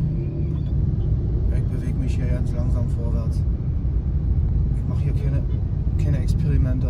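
Dense rush hour traffic in Ho Chi Minh City, Vietnam, crowded with mopeds: a steady close rumble of engines and passing vehicles, with scattered higher buzzes and horn-like tones, running throughout while someone talks over it.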